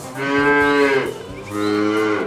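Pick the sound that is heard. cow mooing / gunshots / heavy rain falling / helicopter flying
cow mooing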